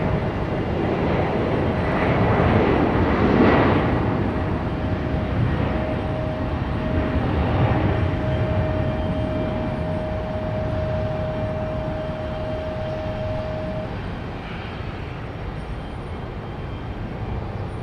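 A JetBlue airliner departing Raleigh-Durham International Airport roars in a broad, steady engine rumble with a sustained whine, loud and continuous as it accelerates and slowly fades at a distance.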